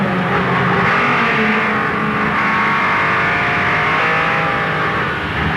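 Sports sedan racing cars at Amaroo Park in a 1984 Comalco Wunderlich series race, heard from an in-car camera: a loud, continuous engine roar with shifting revs as the car climbs a hill into traffic.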